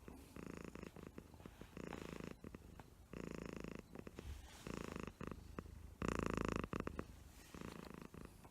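A cat purrs close up in rhythmic pulses, each breath cycle a rumbling burst separated by short pauses, steady and intimate with no talk.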